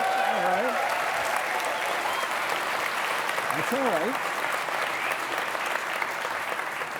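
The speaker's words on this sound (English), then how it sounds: "We don't normally get applause for anything." A live studio audience at a televised Ontario political talk show breaks into steady, full applause that lasts the whole stretch, while someone briefly speaks over the clapping.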